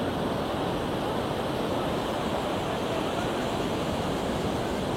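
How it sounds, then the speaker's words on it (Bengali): Sea waves crash on Puri beach on an overcast monsoon day after heavy rain, a steady loud roar of surf with constant wash and wind noise and no gaps. "সমুদ্রের ঢেউ, যেটা থাকে কিন্তু একদম মারাত্মক পর্যায়ে"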